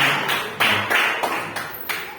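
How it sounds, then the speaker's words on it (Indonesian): A small group applauds for Bu Rama at a school teacher session, with bursts of clapping rising and falling in roughly rhythmic waves, fairly close. "Terima kasih tepuk tangan untuk Bu Rama."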